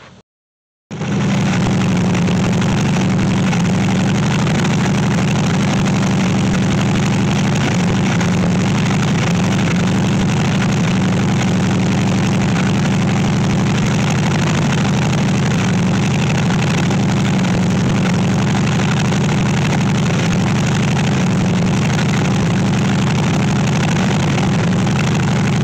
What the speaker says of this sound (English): I got it to where it's idling halfway decent